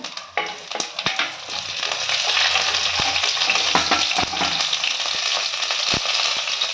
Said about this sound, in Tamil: வெங்காயம் வெங்காயம் கொஞ்சம் வதங்கட்டும்